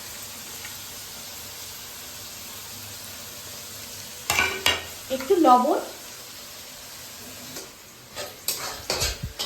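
Onions fried until reddish with chicken masala, turmeric and whole garam masala sizzle steadily in a pan, broken by a few bursts of spoon-stirring and scraping midway and near the end, with a brief spoken phrase.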